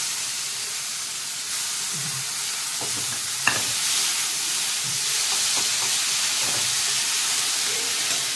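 Grated onion hits hot oil already holding cumin seeds and bay leaf, giving a steady, bright sizzle throughout with occasional soft stirring clicks from the pan.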